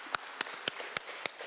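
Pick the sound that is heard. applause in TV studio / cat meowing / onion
applause in TV studio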